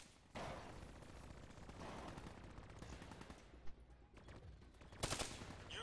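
Hijacked automated turret firing in Call of Duty: Black Ops 3, a sustained stream of rapid gunfire at fairly low level with a louder burst near the end.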